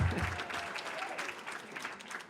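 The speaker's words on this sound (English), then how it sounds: "And you can applaud for Orange County." Audience at a congressional town hall in Orange County, San Juan Capistrano, breaking into sustained applause, a dense wash of many hands clapping steadily throughout.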